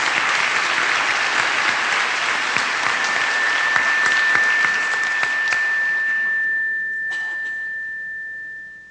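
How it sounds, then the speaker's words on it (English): Audience applause at a town hall on education and criminal justice, a broad steady wash of clapping that holds loud, then thins and fades out, with a faint sustained tone running beneath it. "a round of applause."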